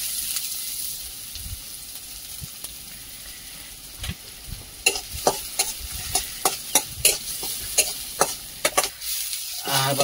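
Onions fry in hot oil in a pan in a village kitchen, a constant sizzle broken by a run of rhythmic scraping stirs that grow louder and busier, with no speech.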